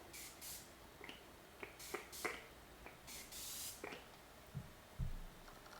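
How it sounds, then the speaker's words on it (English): Several short hissing bursts of makeup setting spray, close by, spaced irregularly over a quiet background, with a few soft handling thumps near the end. "So we're going to just give myself a good spray."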